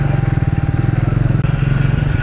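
Motorcycle held in first gear while descending steep hairpin turns on a high mountain road to Gurudongmar Lake, a steady close engine drone with a fast regular pulse and no pauses.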